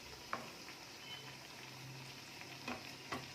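Chicken bread kachori frying in oil, a steady soft sizzle with a few faint clinks and stirs, close and quiet.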